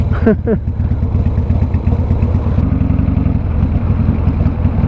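A 1993 Harley-Davidson FXR Low Rider S 90th Anniversary Edition with a stuck or sticking throttle runs close by, its loose, lumpy V-twin rumble steady and loud throughout after a brief rev at the start.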